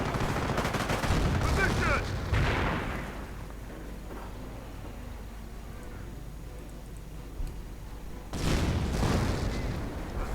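Gunfire in a WWII strategy game, with dense bursts of shots and explosive cracks at the start and again near the end and a quieter rumbling stretch between them, no voice.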